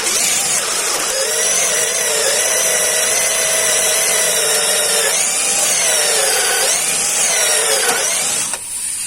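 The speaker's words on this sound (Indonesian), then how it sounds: "untuk tes drilling pada kayu kita menggunakan maksimumnya ya, yaitu 10 mm" An NTR Pro DC 340 cordless drill with a 10 mm bit whines steadily and loudly through the whole stretch, its pitch dipping briefly a few times as it bites into wood, then cutting off near the end.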